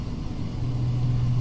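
Twin engines of an Alabeo DA42 aircraft run at full power in the FSX flight simulator game, a steady, loud, droning hum that holds even throughout, with no voices.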